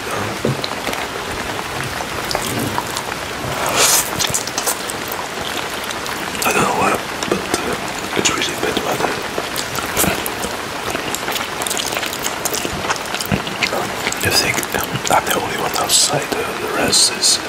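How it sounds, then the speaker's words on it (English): Rain falls outdoors as a steady, fairly loud patter of drops hitting surfaces, continuous throughout with scattered sharper splashes. "The rain just keeps raining, as you can hear it."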